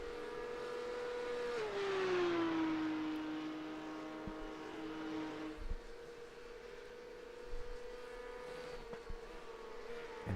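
A Porsche Cup race car engine in a sim racing game at Barcelona, with a steady loud drone and a tone that dips as the car slows for a corner, then holds on the straight. No voices are heard.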